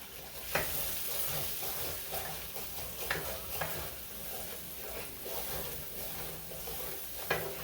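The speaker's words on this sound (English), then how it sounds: "So now I'm going to start scrambling my eggs." Beaten eggs scrambled in a hot pan for shrimp and pork fried rice give a continuous soft sizzle, with occasional sharp scrapes and taps of a utensil against the pan.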